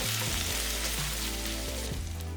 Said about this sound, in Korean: 참기름 1스푼 넣고 마늘, 대파 넣고 볶아서